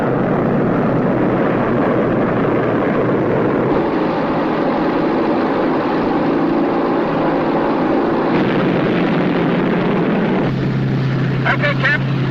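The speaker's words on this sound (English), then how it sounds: "Enemy aircraft coming close below." Enemy aircraft approaching in a war film: a loud, steady engine drone and roar fills the whole stretch without letup, with the tone shifting slightly near the end.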